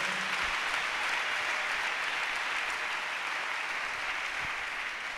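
A church congregation applauds steadily to acclaim the Lord, with dense, continuous clapping from many people at a fairly even level from start to finish and no talk over it.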